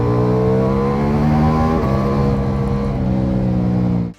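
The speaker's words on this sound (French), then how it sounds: "La première moto, c'est la Ducati Multistrada V4." Ducati Multistrada V4 motorcycle with a 170-horsepower V4 Gran Turismo engine, running loud and close with a steady harmonic drone and a brief rev shift partway through, then cutting off abruptly.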